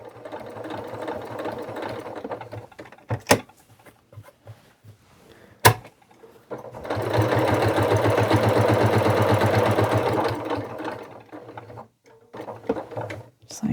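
A sewing machine runs in one sustained, fairly loud burst while stitching a Christmas stocking, with sharp clicks and handling knocks before and after it.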